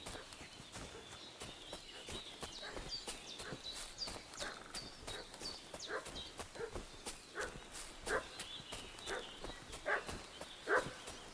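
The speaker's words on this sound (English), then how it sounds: "What's that dog making such a fuss about?" A dog barks repeatedly in Kingdom Come: Deliverance 2, a string of sharp yaps at mid distance over outdoor ambience with faint hoof clops.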